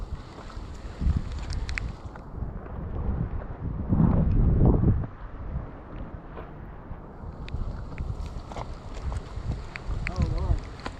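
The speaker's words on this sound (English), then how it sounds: "it's very windy up here." Strong gusty wind on an exposed hilltop buffets the microphone in roaring surges, with the heaviest blast midway through; a voice is heard briefly in the gusts.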